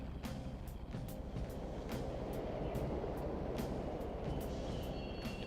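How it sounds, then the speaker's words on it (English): Subway train running in the video game Persona 5, a steady rumbling roar with faint rhythmic clacks over the rails, fairly distant and low in level, with no talk. "It's the ghost train."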